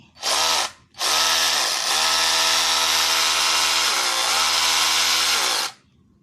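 A cordless drill, its switch contacts cleaned with WD-40 contact cleaner, whirs briefly, stops, then runs steadily at high speed for several seconds before winding down, loud and close.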